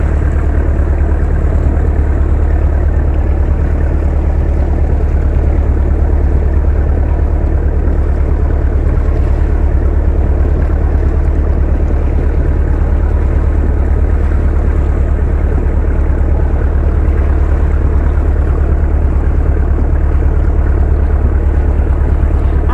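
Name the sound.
waves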